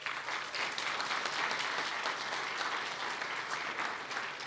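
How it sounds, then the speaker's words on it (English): Steady, dense audience applause fills a hall at an entrepreneurship event, many hands clapping at an even level for several seconds with no voices over it. "deserves a round of applause."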